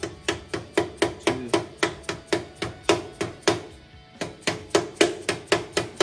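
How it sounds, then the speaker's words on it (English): Steady, evenly spaced thuds of a rubber mallet tapping a part into a 1600cc Volkswagen Type 1 engine, a quick regular rhythm with one brief pause midway. "you can hit it with the hammer, but it's got to be a rubber mallet"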